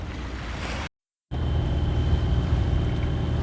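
A sailboat motors out of a Caribbean bay off Martinique, its engine a steady low rumble mixed with wind and water noise, broken by a short silent gap before resuming loudly.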